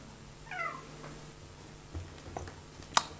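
A house cat gives a short meow in a quiet room, followed by a few faint taps and a sharp brief rattle near the end.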